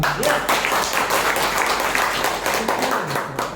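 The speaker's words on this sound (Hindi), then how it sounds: "सर के लिए भी एक जोरदार ताली।" An audience bursts into strong applause for a departing speaker, a dense, steady wash of clapping lasting a few seconds, easing slightly toward the end.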